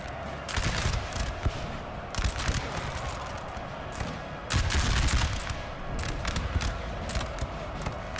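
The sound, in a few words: French skirmishers' musket fire in video game Napoleon Total War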